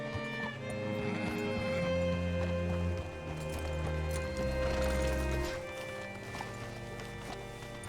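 Horse hooves clip-clop at a hitching spot in the Red Dead Redemption video game, steady close steps over a bed of droning music and ambience that drops away near the end.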